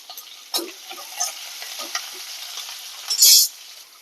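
Lengthwise-sliced onions frying in a pan with mustard seeds and urad dal give a steady close sizzle, with scattered stirring scrapes and a louder crackling burst near the end.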